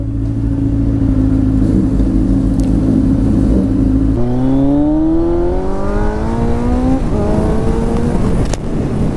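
A Kawasaki Z900 motorcycle engine drones at a steady note, then revs up in a smooth, rising climb during a wheelie. The sound is loud and close throughout.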